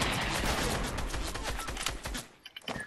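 Rapid gunfire in Fortnite Battle Royale, a loud, dense burst of shots that thins out into a few scattered pops near the end.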